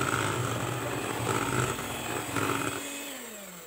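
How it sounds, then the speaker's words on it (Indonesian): An electric hand mixer runs on low speed through cake batter after coconut milk and oil go in, a steady close mechanical hum that shifts slightly in pitch and then eases off toward the end. "Mixer kembali dengan kecepatan rendah."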